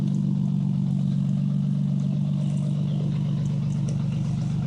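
A 1990 Nissan 300ZX engine idles steadily at around 800 rpm with a deep, even hum, and a faint lifter tick rides on top of it. No one talks over the engine.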